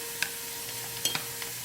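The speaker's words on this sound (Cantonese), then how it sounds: "輕輕去炸到佢 淺金黃色，咁就要攞起嚟噶啦。 咁我哋不時咧係攪拌住佢嘅" Minced garlic fries in oil over medium-low heat while being stirred, giving a quiet, steady sizzle broken by a few faint clicks and scrapes from the utensil.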